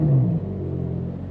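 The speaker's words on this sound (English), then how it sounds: "Let's start the engine." A Ferrari 812 GTS naturally aspirated V12 fires up with a loud, deep burst that settles within half a second into a steady, rumbling idle, close and alone.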